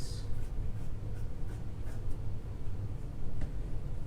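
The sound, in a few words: cutting folded fabric for a headband and face mask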